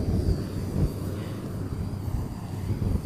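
A steady, rumbling aircraft roar fills the air at Zhurihe airport, from the plane set to carry the Chang'e-5 return capsule to Beijing, with some wind buffeting the microphone.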